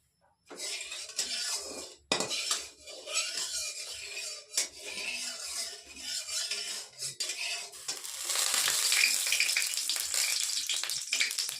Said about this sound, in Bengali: এখন একটু চিংড়ি মাছগুলো ভেজে নেব, কড়াইতে তেল দিয়ে দিই